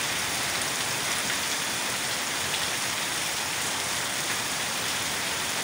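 Heavy rain pours down at night in Murree, a dense, steady hiss of water hitting surfaces that stays loud and unbroken throughout, with no voices.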